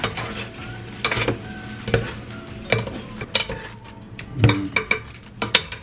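Canned fish, juice and all, stir-fried in a pan over medium heat, with utensils scraping and clinking against the metal at irregular intervals over a soft background sizzle, close and fairly loud, no talking.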